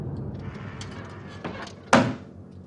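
In Child's Play, an oven door is pulled open and an added thump lands at the end, a single sharp near bang following soft scraping and handling noises.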